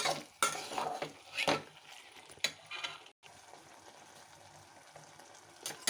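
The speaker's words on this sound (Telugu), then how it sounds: "కొంచెం చింతపండు రసం పోసి బాగా కలపాలి" Tamarind juice stirred into a curry in a pan, with soft scraping spoon strokes and faint sizzling, a few louder clinks scattered across a fairly quiet background.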